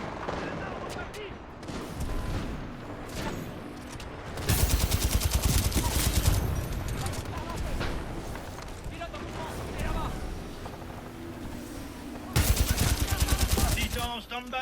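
Rapid gunfire from an enemy Titan in Titanfall 2, heard as two dense, loud bursts over a continuous layer of game noise, with people talking throughout.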